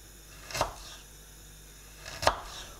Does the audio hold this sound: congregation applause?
no